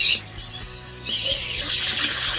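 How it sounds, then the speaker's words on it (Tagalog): Tap water poured into a small water dish inside an Amber Baboon tarantula's enclosure, a brief splashing trickle that grows steadier and brighter partway through, close and fairly loud, with no one speaking. "So water dish lang"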